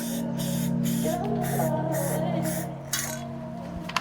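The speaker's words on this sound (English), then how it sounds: "If ever you're spraying with a spray can, you have to get one of these." A spray can of primer hisses in steady bursts for several seconds over a low hum, with a few faint clinks near the end, while spraying an Audi TT front spoiler.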